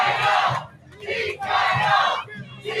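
A boxing crowd at a bout between Tomas Ornelas and Jimmie Nunez roars and chants in loud, sustained waves with brief dips between surges.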